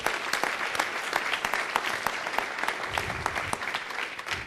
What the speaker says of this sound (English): Give them another great big round of applause.